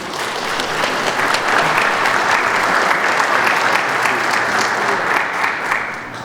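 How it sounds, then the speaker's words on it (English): An audience claps loudly and continuously to welcome a presenter at a community youth safety event on social media, with steady applause from a crowd filling the whole stretch. "So can we please give a warm welcome to Tony Simmons?"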